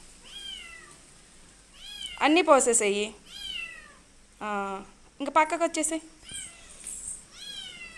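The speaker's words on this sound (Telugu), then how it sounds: "అదిగో మ్యావ్ వస్తుంది" A cat meows several times, some calls drawn out and insistent, while a person talks quietly nearby.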